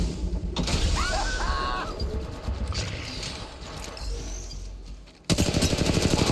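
Mechanical clicks and clacks of a weapon being reloaded in Apex Legends Mobile, with a metallic ratchet and gunfire-like bursts, then a loud rattling burst near the end.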